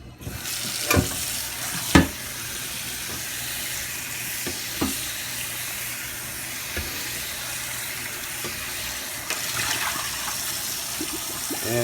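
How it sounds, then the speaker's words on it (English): An SOS pad with soap scrubs rust off a cast iron pan, a continuous wet, hissing scour with a few sharp knocks and clanks, close and steady throughout. "So this one here that I had a little bit of soap, so I'm just scrubbing it off."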